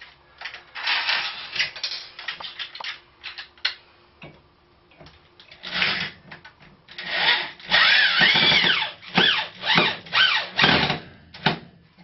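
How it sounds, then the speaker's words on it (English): A power drill whirs in repeated close bursts, drilling into a wall to install a handicap grab bar, its motor revving up and winding down between short pauses. "mark it so the drill has a place to start"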